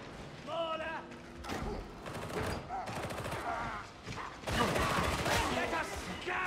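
Mortar fire in the video game Warhammer 40k: Darktide, a barrage of booming blasts and rattling gunfire layered over voices talking and game noise, loud and continuous with a heavier surge near the end.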